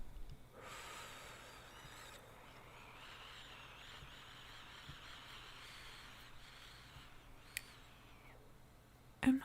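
A slow, deep breath drawn in close to the microphone, a long airy hiss that swells and holds steady for several seconds before trailing off, with no talking over it.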